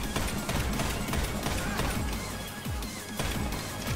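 Video-game gunfire crackles in a dense, rapid fusillade of shots and crashes, loud and close, continuing steadily without pause.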